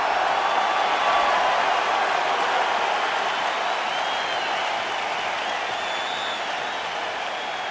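Capacity arena crowd in EA Sports UFC 5 before a lightweight championship fight, a broad, steady roar of applause and cheering filling the space, loud and sustained with a slight fade toward the end.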